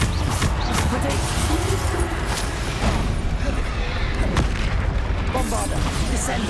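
Bombarda blast spells from Hogwarts Legacy booming through a dense, continuous wash of combat noise, with repeated heavy explosive hits layered under dialogue.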